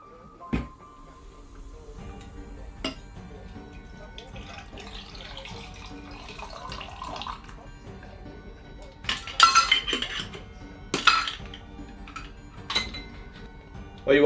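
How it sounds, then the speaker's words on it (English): Cocktail strained from a shaker into a glass over ice, a soft pouring trickle with a few sharp clinks of metal and glass, some of them louder near the end. "Now strain into your glass."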